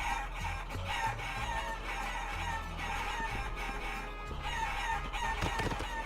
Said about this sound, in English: Oh my god, I feel bad for these chickens.